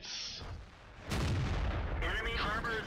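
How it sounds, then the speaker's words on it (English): A British tank destroyer's gun fires a shell in World of Tanks, one sharp, loud boom with a short rumbling tail, followed by brief game sound effects. "the gun is zoomed in and you are already firing a shell"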